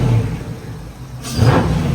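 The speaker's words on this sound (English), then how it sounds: "let me rev it so you can see what it sounds like" A Dodge Charger Scat Pack fitted with a K&N cold air intake idles with a steady mid-range rumble, then revs up loudly near the mic, the engine note swelling and holding high before settling.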